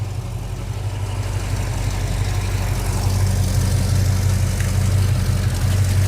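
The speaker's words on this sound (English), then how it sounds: "I turned the idle up a little bit. That's about 800 RPM" V-8 engine of a 1989 Chevrolet S10 pickup idling at about 800 RPM, a steady low rumble with a deep throb, close and loud, holding even without revving.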